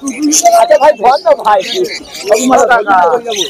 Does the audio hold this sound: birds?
yes